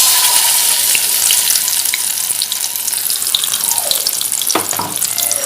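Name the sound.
red chilli paste frying in oil in pan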